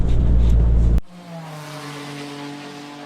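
A Peugeot 208 GTI engine pulls from low revs around 1800 rpm in fifth gear, a steady droning hum that rises slightly after a sharp cut, heard from inside the car.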